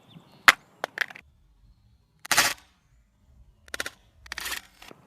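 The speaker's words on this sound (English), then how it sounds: "iPhone 6 face down drop test, 10 feet." An iPhone 6 dropped face down from 10 feet onto the ground gives sharp, separate cracking impacts, several short bursts with gaps of silence between, close and fairly loud.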